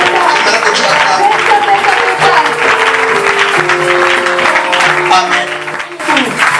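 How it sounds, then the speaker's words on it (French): Church congregation applauding and cheering loudly and continuously, a dense wash of clapping and voices with music tones underneath, easing slightly near the end. "Je veux que tu acclames."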